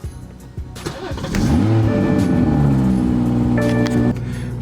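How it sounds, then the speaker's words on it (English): BMW 340i with an MHD Stage 1 tune and M Performance exhaust starting up: a brief cranking, then the engine catches and flares to a loud idle that holds and dips slightly, close by. "I'm gonna go ahead and give you guys an example of a startup"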